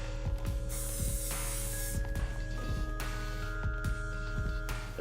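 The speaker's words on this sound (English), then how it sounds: "Hairspray is going to help to sort of lock in the hair, hold it into place" Hairspray misted over styled hair in short repeated spray bursts, close and steady, with a faint mechanical hum running underneath.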